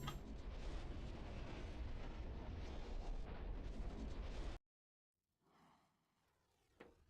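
Animal rocket launching in the Planet Crafter video game, a loud roaring rumble for several seconds that cuts off abruptly into near silence, followed by a faint distant whoosh and a brief soft thud.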